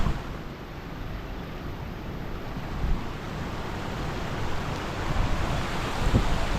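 Rushing water from a hidden waterfall in Valparai pours in a steady, dense roar that fills the whole stretch, with slight surges in loudness and no voices over it.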